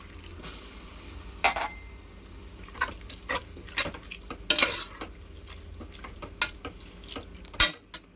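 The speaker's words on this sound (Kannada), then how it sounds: "ಚೆನ್ನಾಗಿ ಒಂದು ಸತಿ ಫ್ರೈ ಮಾಡ್ತೀನಿ." Beetroot palya stirred and fried in a pan, with a steady low sizzle broken by repeated scraping and clinking strokes of a spatula against the metal, close and irregular.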